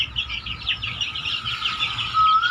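A country hen clucking close by, a run of short, busy calls in quick irregular succession with a bright chirping edge, alone without talk.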